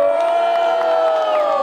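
A rap battle audience in Brazil shouts and cheers in a steady, loud wall of voices to vote for the MC Tirano at a Red Bull qualifier, the roar holding evenly throughout.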